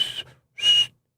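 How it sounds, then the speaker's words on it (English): A real whistle, not a dog whistle, is blown in two short, shrill blasts separated by a brief pause. The blasts are loud and close, with no talking. "Oh, that was a real whistle."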